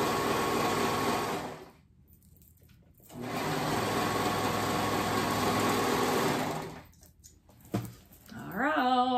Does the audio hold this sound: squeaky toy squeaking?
no